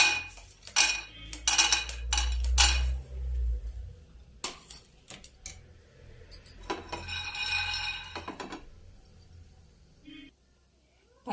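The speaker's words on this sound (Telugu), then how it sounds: "ఫస్ట్ పల్లీలు వేయించుకుందాం." Peanuts are dry-roasted in a pan, with scattered clinks, rattles and scraping of utensil on metal that come in bursts and then thin out, and a low hum runs beneath.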